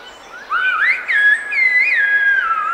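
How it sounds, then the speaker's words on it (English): A loud, musical human whistle of the traditional kind used to carry messages over long distances sweeps up and down in pitch as one continuous modulated phrase, heard clearly and alone for about two seconds. "A voice of its own, loud and musical,"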